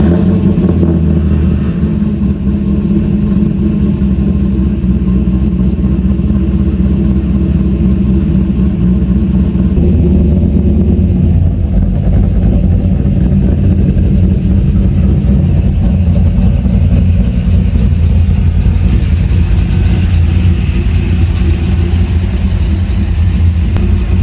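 A 1999 base model C5 Corvette V8 fitted with a BTR Stage 3 cam runs steadily and loudly, with a deep, lumpy low-end rumble that continues for over twenty seconds, close by with no voices.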